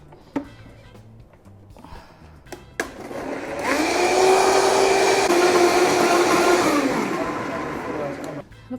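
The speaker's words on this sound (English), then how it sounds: "And I want to blend it. And here's a bit of noise." A blender whirs through a green drink of pineapple and a little water, building to a loud, steady motor roar after a few quiet seconds of clicks and handling, then winding down near the end.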